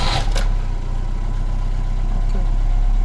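A Peugeot 505 engine idles steadily with a deep, constant low rumble. A brief clatter marks the start of the recording, then the running engine drones on evenly and loudly nearby without speech.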